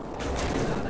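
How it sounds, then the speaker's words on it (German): Gunfire in the video game Modern Warfare 2 on the Skidrow map: a brief, dense crackle of shots that fills the short moment. "Guck mal, da kommen gleich ein paar Schüsse von mir."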